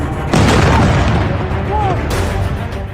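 Explosions from a missile attack on Israel, likely Tel Aviv, captured in news footage: a loud booming blast breaks in after a short quiet stretch, followed by a rumbling, noisy tail and a second surge toward the end.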